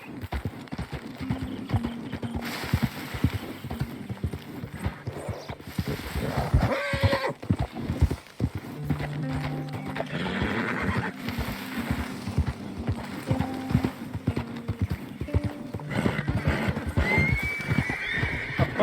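Wild horses in the video game Red Dead Redemption 2, with rhythmic clip-clop hooves galloping close by and several sharp neighs and whinnies rising over them, set against game background sound.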